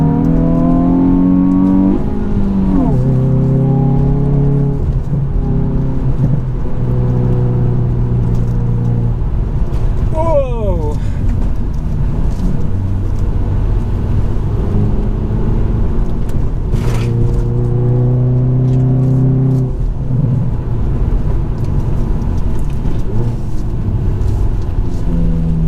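A Hyundai i20N accelerates hard on a banked track, its engine climbing through the gears with repeated rising revs and shift breaks, loud and close from inside the cabin.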